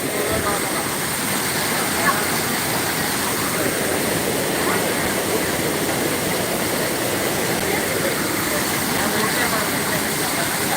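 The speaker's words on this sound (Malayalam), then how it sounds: "നല്ല ഒഴുക്ക് കൂടിയിട്ടുണ്ട് പുഴയിൽ" A strongly flowing river at Kottiyoor temple rushes as a steady, dense roar of water, constant and loud throughout, with faint voices in the background.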